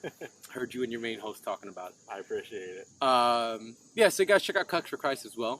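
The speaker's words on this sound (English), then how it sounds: "that's what that sound is when grasshoppers are making that chirping sound" Grasshoppers or cicadas chirp outdoors in a steady high-pitched drone that runs through the whole stretch, sitting beneath a relaxed conversation between several people.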